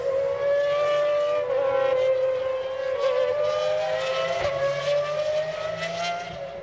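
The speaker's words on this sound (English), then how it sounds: "cars through once more, heading into turn one" GT1 race cars at the Barcelona circuit, a loud high engine whine sustained and slowly shifting in pitch as cars pass by, with no talk over it.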